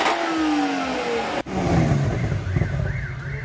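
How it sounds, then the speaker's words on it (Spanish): A nearby car engine revs and shifts pitch, then a wavering electronic car alarm tone rises and falls over the engine noise, in Veracruz, Mexico. "Otra vez la alarma."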